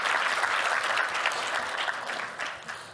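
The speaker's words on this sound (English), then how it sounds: "Let's clap." An audience at a tech workplace summit keynote claps steadily and fairly loudly, a dense even wash of hands lasting the whole moment and tapering slightly toward the end.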